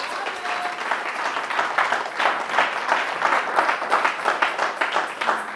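Congregation clapping and applauding together in a church service, steady dense applause with rhythmic swells throughout, no talk over it.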